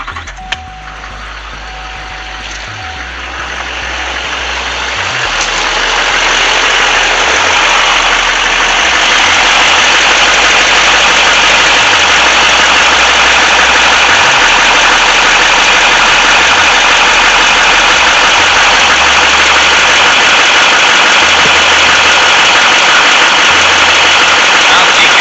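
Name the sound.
Duramax LMM diesel truck engine running after fuel filter change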